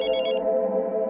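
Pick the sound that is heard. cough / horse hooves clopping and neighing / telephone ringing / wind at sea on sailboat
telephone ringing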